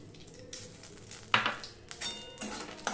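Semolina tipped into melted ghee in a pan, giving soft scraping and stirring scuffs with a few sharper clinks of a spoon or bowl against the metal, a faint sizzle underneath, and no talking.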